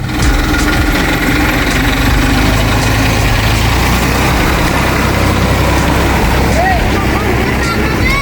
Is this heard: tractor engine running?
yes